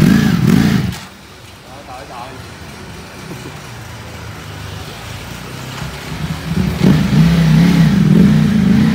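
A 2018 Ducati V4S motorcycle engine revs loudly on a test ride, a strong burst at the start, a quieter steady running stretch, then a rising rev swelling up again near the end.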